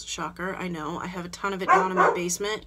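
A dog barks and yips a few times close by, mixed in with someone talking steadily over it indoors.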